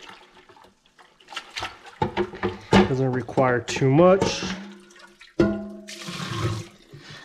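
Warm water runs into a kitchen sink, splashing and gurgling at close range, with a person briefly talking over it partway through.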